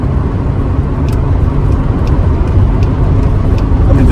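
Steady road noise from a car cruising along a highway under cruise control, a continuous low rumble with tire hum that holds level throughout, with no talk.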